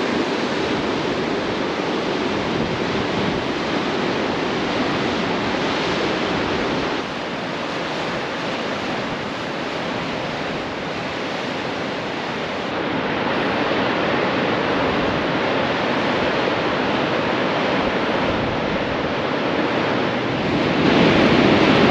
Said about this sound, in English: Another incredible beach.